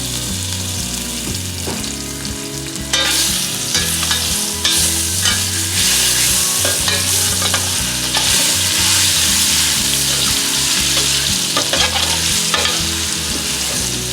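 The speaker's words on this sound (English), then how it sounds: "We have our oil heated up here and we'll roast our minced garlic." Minced garlic fries in hot oil for shrimp, a steady dense sizzle with stirring scrapes that grows louder and fuller after the first few seconds and continues without pause.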